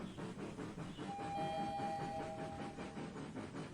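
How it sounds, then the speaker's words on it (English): A train rumbles steadily with a clattering rhythm, and a thin tonal whistle or brake squeal rises briefly in the middle, part of a sleepy ASMR train-ride story aboard the Sleepy-Time Express. "The train will be arriving in Snoozeville shortly."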